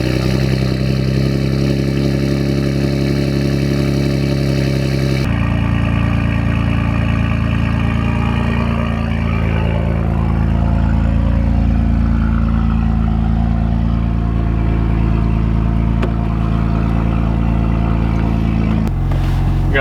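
A Saab Turbo X pulling out of a driveway, its engine running with a steady, loud mid-pitched drone and a shift in tone partway through, clattery and continuous for about twenty seconds.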